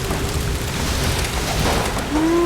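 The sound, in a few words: waterfall in Tomb Raider video game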